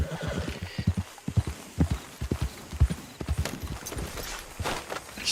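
Horse hooves clip-clop steadily in a fishing video game, a close rhythmic clatter of hoofbeats with an occasional neigh, heard alone without talk.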